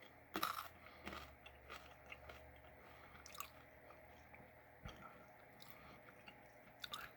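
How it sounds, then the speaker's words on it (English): Crunchy seaweed-flavored Imperial Mix snack being chewed up close, with a few sharp crunches early on, then softer moist chewing and occasional bites against a quiet background. "Let's give it a crunch."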